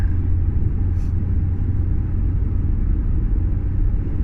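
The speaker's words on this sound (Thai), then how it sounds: "ว่าจะขับรถช้าๆไปหน่อยนะคะขับรถช้า" Steady low rumble of a car rolling slowly along a road, constant engine and tyre drone filling the cabin without pauses or revving.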